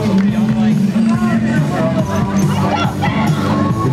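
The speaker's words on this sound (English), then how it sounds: "We got the crowd live too." A live crowd roars at a skateboarding event in a dense, continuous wash of voices. The shouting and cheering stay loud throughout, with a babble of talk mixed in.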